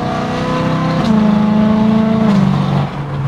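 BMW E92 M3 with a straight-pipe exhaust pulling hard on a freeway past an underpass, its engine note loud, close and continuous, climbing in pitch through the pull before easing near the end.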